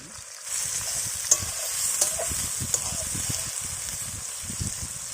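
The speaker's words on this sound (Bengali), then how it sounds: "পেঁয়াজ হালকা হালকা ভাজা হয়ে গেছে" Onions, with ginger and garlic, frying in a pan for a Bengali snakehead fish dish, a steady sizzle with scattered scraping stir strokes and small clicks throughout, close and moderately loud, no talk.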